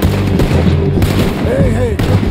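Gunshots in the video game Red Dead Redemption 2, a burst of loud, close booming shots over rumbling action, with voices speaking at points.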